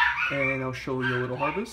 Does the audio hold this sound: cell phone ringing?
no